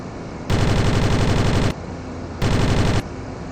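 Two long bursts of rapid automatic gunfire from a video game, loud and close, the first lasting over a second and the second shorter, with a steady hum between them.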